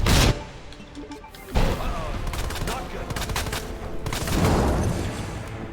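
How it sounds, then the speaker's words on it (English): Grenade blasts and gunfire from the video game Resident Evil 2 burst out loudly, with a sharp boom at the start and another crashing explosion after a second, followed by rattling debris and further bangs. "Blow up grenade."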